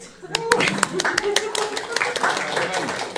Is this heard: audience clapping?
yes